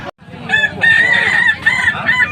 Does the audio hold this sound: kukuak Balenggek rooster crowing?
yes